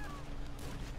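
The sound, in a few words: shotgun fire in a video game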